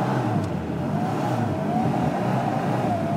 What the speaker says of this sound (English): That's driving along at 40 k's an hour. It's just slipping its head off.